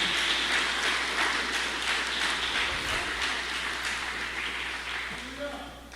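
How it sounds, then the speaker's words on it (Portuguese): Church congregation applauding after a sermon, steady clapping spread across the room that fades gradually over several seconds, with a voice speaking over it. "Aplauda Jesus."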